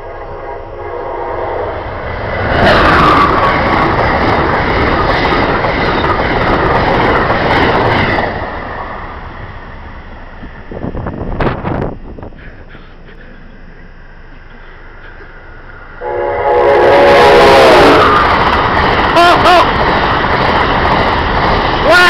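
An Amtrak Northeast Regional train roars past close by, a loud sustained rumble and clatter with horn-like tones that swell, ease off midway, then surge again as cars rush by with a clear pitch shift.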